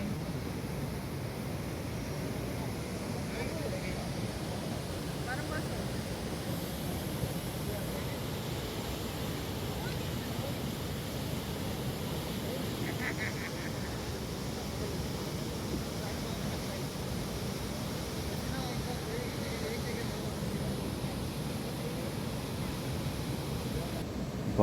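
Athirappilly waterfall sends up a constant, even roar of rushing water that holds steady throughout at moderate distance, with a voice talking over it now and then.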